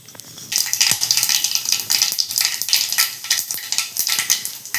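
Cumin and mustard seeds sizzle and crackle in hot oil for a tempering in a home kitchen, a bright, busy spitting hiss with sharp pops, close and loud, bursting in right after a short quiet start.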